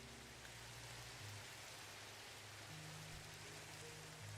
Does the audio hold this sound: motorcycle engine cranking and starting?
no